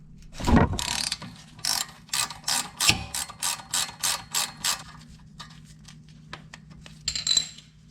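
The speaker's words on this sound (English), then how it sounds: "now we can use a 12mm socket and break this off" A ratchet with a 12mm socket breaks loose a bolt on a 2019 Subaru WRX during a coilover install: a clunk, then a run of rhythmic, close, loud ratcheting clicks in quick strokes, ending with a metallic clink.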